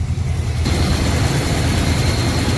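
A 1986 Dodge Ramcharger engine that sat for 18 years, running with a possible missing exhaust bolt, catches and settles into a loud, low, rough idle rumble with a steady drone after a brief quiet start.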